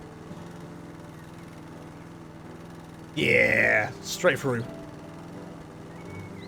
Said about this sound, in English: I'm pretty sure the lawnmower couldn't go through the trees before.